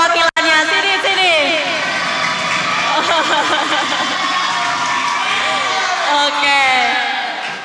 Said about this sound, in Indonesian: tepuk tangan dulu dong, ada perwakilannya